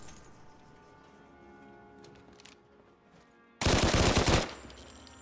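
Automatic weapon fire in Fallout 4, a single loud, dense burst of rapid shots lasting about a second, breaking in over quieter game background sounds.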